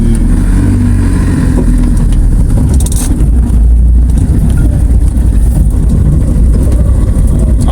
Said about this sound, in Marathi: चालली गाडी.